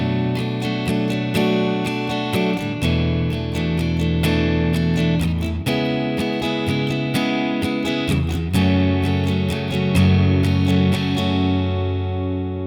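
Strummed guitar chords from a song, with steady rhythmic strokes and ringing chords, loud and close, no talking.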